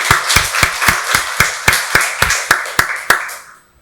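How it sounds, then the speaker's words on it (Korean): A church congregation claps together during a Sunday worship service, a steady run of about a dozen sharp, evenly spaced group claps that fades out at the end. "박수로 하나님께 영광 돌리겠습니다."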